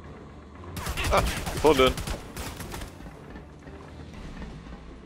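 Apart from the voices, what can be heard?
gunfire in a video game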